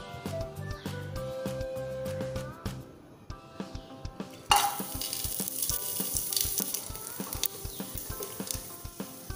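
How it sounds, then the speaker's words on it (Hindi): Hot oil sizzles with quick, irregular crackles and pops from whole dry spices for chicken curry, which surge louder midway and keep spitting steadily. "मसाले चटकने लगे हैं"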